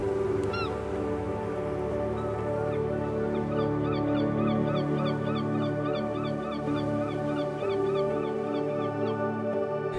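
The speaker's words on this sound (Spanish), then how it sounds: "los cantos abrumadores de las gaviotas" A chorus of squawking gull calls rings out continuously over a steady background hum at Pucusana, Peru, many birds calling at once.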